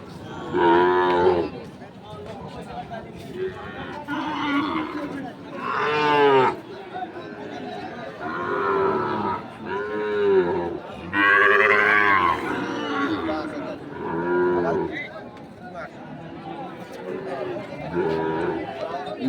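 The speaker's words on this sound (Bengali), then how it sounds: "গরু" Cattle moo repeatedly, loud and close, over a busy crowd chatter of many voices at a livestock market selling Sahiwal bulls and calves.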